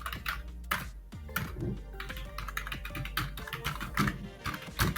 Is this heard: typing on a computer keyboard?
yes